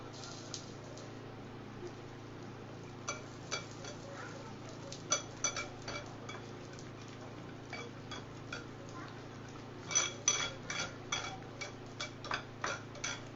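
Paneer tikka being mixed in a pan off the flame, with light metallic clinks and taps of a utensil against the pan that grow more frequent toward the end, over a low background hum.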